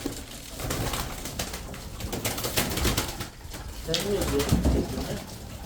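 Tumbler pigeons coo close by in a loft, soft repeated calls mixed with bird chatter while someone talks over them throughout.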